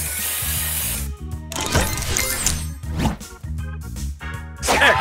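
A spray booster effect fires in the mobile match-three game Match Masters, a bright hissing whoosh burst layered over looping game music, with short sharp effect hits around it.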